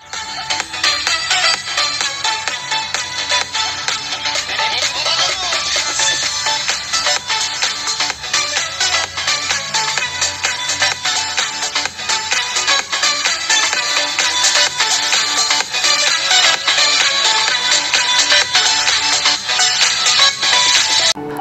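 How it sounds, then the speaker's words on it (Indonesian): A ringtone plays loudly and continuously from a Redmi Note 8 Pro phone speaker, a bright looping melody lasting about twenty seconds with no talk. "berikut contoh suara dari Redmi Note 8 Pro"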